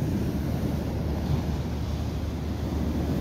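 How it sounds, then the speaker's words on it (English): Waves crashing at high tide on a wet, windy Blackpool seafront between North Pier and Central, a constant loud surf roar mixed with wind buffeting the microphone, no voices. "Always do love watching these waves crashing"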